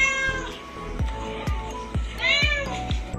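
A cat meows repeatedly indoors at home, with several short, clear meows close by, mixed with soft knocks and bumps.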